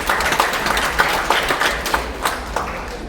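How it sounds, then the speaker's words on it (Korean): Crowd applause at a memoir book launch in a museum hall, many hands clapping in a continuous patter with some distinct nearby claps, holding at a steady level throughout. "여러분 박수 부탁드리겠습니다."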